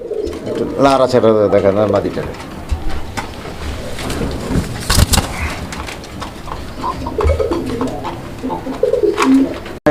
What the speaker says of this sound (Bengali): এই জোড়াটা মার্শাল্লাহ একদম ভরপুর অ্যাক্টিভ নটটা ডাকাডাই করতেছে